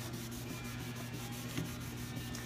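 Coffee table surface being buffed by hand during a makeover, with faint, quick rhythmic rubbing strokes repeating steadily and close by.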